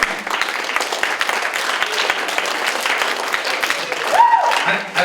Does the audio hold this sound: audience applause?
yes